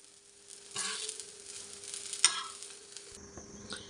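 Eggplant frying in a pan, faint sizzling with a couple of louder bursts as pieces are stirred or turned, close and quiet.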